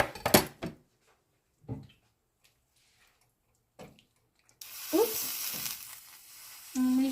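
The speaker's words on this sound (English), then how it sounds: "I got some margarine melting in my skillet next to me" Margarine melting in a skillet, heard as a bright hissing sizzle that starts partway through after a few quiet kitchen clatters and knocks, close by, with a brief voice-like tone at the end.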